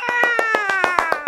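A child's rhythmic hand clapping during a nursery rhyme: eight or so sharp, evenly spaced claps over a sustained sung or hummed tone, close and fairly loud.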